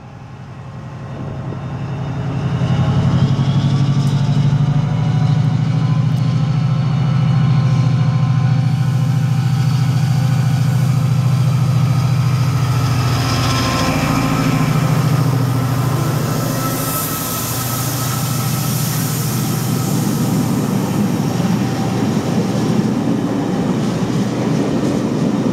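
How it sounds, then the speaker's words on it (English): A Class 68 diesel locomotive, 68004 Rapid, departs Kirkcaldy station bound for Moss End Yard, its engine a loud sustained low drone that swells and shifts pitch as it pulls away, with wheel and rail noise building toward the end. "Departing is 68004 Rapid to Moss End Yard."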